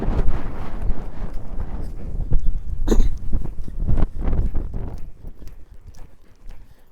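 A working horse's hooves clip-clop in a steady, irregular run of thuds on the ground during cattle work and rollbacks, close and loud, with gusts of wind buffeting the microphone and no voices.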